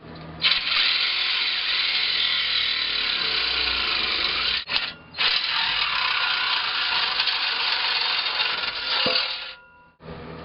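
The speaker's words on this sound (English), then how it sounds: "I want to try to cut this as close to the muffler as I can." A power tool cuts through the exhaust pipe near the muffler of a Chevy Silverado 5.3L V8, giving a loud, harsh, continuous grinding whine close by, broken by one brief pause midway before it resumes and then stops near the end.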